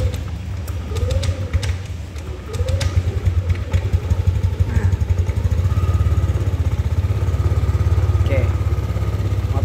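A Yamaha Aerox scooter with an idle speed control fault cranks over and starts, then settles into a steady, close idle that grows louder and more even, with a voice talking over the start.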